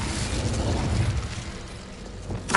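The Incendio fire spell in Hogwarts Legacy lets out a dense roaring whoosh of flame that starts strong and fades over about two seconds, ending with a sharp burst.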